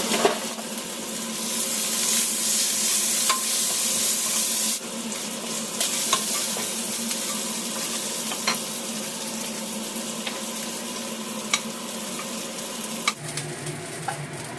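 Food toasts in oil and sugar in a pan with a steady, loud sizzle and occasional stirring scrapes and clicks nearby, the frying quieting somewhat after a few seconds, with no talking.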